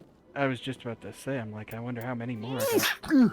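One person sneezes loudly and close, a short sharp burst near the end of casual talk between people during a Mass Effect trophy-hunting session.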